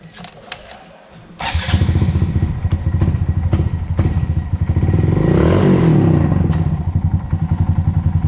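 A Honda Monkey bike with a new sprocket and a nitrous system kicks over and pulls away, its small engine loud and close, chugging and revving through the gears with a steady pulsing beat.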